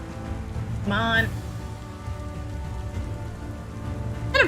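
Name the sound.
rain in a video game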